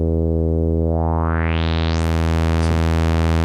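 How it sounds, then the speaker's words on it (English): A sawtooth wave drone from a modular synth runs through a highly resonant low-pass filter swept open by hand, the steady buzzy tone growing brighter and sharper over a few seconds, loud and alone. "That's my saw wave."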